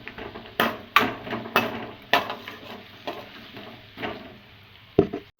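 Capsicum, onion and green chilli stir-fry in a pan for restaurant-style chilli chicken, with a spatula knocking and scraping in uneven strokes over a soft sizzle.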